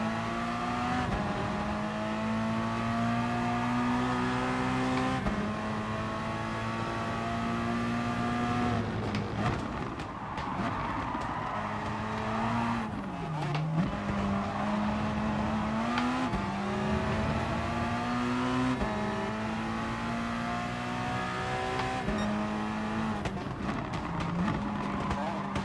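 Racing cars in GT Sport run three wide into a first corner, with high, whining engines rising and dropping through gear changes and braking, over a steady roar of the pack while a voice talks.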